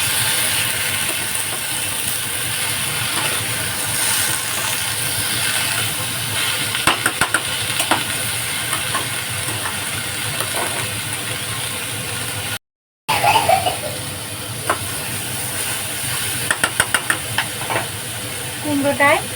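Pumpkin cooking in a pan with added water gives a steady, moderate steam hiss and soft sizzle, with occasional clicks and clatters from the kitchen.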